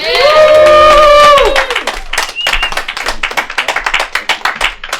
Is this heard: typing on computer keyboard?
no